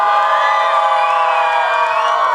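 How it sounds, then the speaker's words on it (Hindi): An audience at a live event shouts and cheers in a loud, continuous wave of excited voices, with high whoops rising over the crowd throughout. "कितना शाउट आएगा, कितनी तालियां आएगी"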